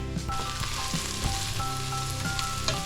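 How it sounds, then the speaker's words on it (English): Garlic and onions frying in a hot pan while being stirred, a steady busy sizzle with occasional scraping knocks from the utensil, close and fairly loud throughout. "give this a bit of a stir, let that fry up a bit"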